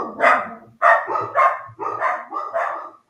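Several dogs bark loudly and close by indoors, a series of about six sharp barks in quick, uneven succession with short gaps between them.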